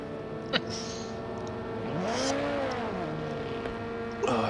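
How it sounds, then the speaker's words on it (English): LP2 race car in a racing video game pulls out of pit lane, its engine note rising and sweeping through gear changes under a steady background drone of other cars, moderately loud. "I can hear an LP2 car leaving pit lane right now."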